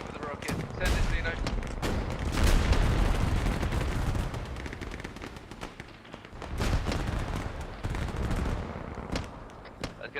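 Rocket launcher firing at a crate in a military shooter game, heard amid heavy gunfire and explosive blasts, with loud bursts repeating through a busy battlefield and voices talking over the action.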